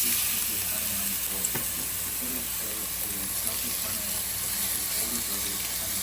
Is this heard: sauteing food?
yes